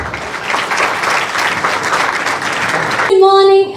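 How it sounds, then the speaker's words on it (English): An audience at an interschool sustainable development competition gives dignitaries a round of applause, a dense, loud spell of clapping that ends as a tonal sound, likely a microphone or music, cuts in. "welcome the respected dignitaries with a huge round of applause."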